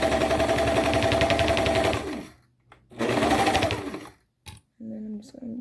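A sewing machine stitches stretchy leotard seams in two loud, steady running bursts of about two seconds each, separated by a pause, with a brief voice at the end.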